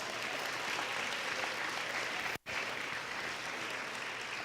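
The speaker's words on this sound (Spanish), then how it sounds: "Dele un aplauso al Señor." A church congregation applauds continuously, dense clapping from many hands filling a room, with a momentary break midway.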